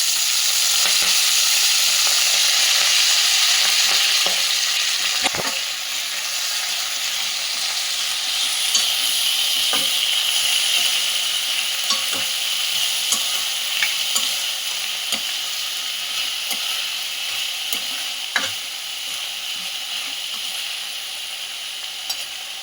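Chopped Malabar spinach is dropped into a hot seasoning tempering and stirred as it fries, with a continuous loud sizzle and repeated spatula scrapes and taps against the pan for over twenty seconds, close by and without talking.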